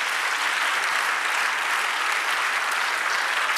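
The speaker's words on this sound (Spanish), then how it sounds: "Dale un aplauso al Señor" A church congregation applauding during a sermon, a dense, even roar of many hands clapping at once, loud and sustained without pause.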